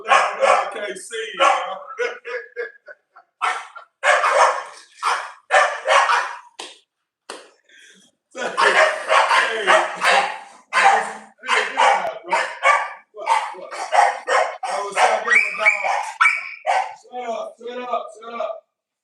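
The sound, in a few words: dog barking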